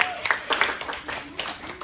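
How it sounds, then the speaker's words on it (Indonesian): Brief, scattered clapping from a small group of students in a classroom microteaching session on Islamic banking, a handful of separate claps in under two seconds. "Kita kasih tepuk tangan dulu buat teman-teman."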